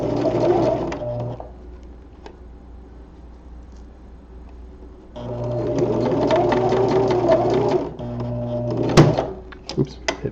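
A sewing machine stitches spandex gloves in two loud, steady bursts of rapid needle strokes separated by a quieter pause, with a sharp click near the end where the needle strikes a pin.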